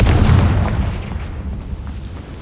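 A Confringo spell blast in the video game Hogwarts Legacy, a loud booming explosion that hits at once and then fades into a rumbling tail over a couple of seconds.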